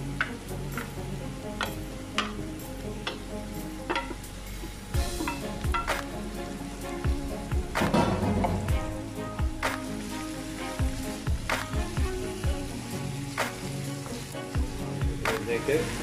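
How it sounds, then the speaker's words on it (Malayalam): Chopped chicken frying in a pan for momos, a dense close crackling sizzle with sharp pops and occasional spoon scrapes running throughout, no voices. "അരിഞ്ഞ് വെച്ചിരിക്കുന്ന ചിക്കൻ ആഡ് ചെയ്ത് കൊടുക്കാം."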